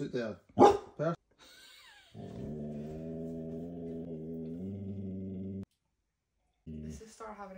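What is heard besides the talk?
dog grumbling instead of barking at someone outside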